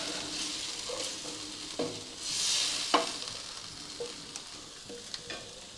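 Broken spaghetti with onions and potatoes cooking in a pan over an open fire, a soft steady sizzle with a few scraping stirs and light clinks.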